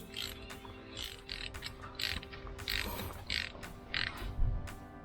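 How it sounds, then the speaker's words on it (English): Ratchet wrench clicks in quick repeated bursts while tightening a nut on a frame and wheel-axle slider fitted to a Triumph Tiger 900 GT Pro motorcycle, close and fairly loud over a steady mechanical hum. "Get the socket to tighten it in."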